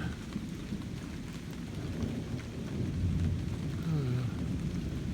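Steady rain from a summer storm falls with low rumbling thunder that swells toward the end, a continuous wash of sound with no one speaking.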